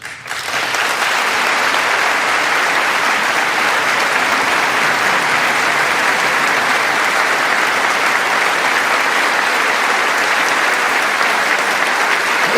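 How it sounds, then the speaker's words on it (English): A large audience applauds continuously and loudly for a speech by King Charles in Washington, a dense, even roar of clapping sustained for several seconds after it swells in. "Stop clapping!"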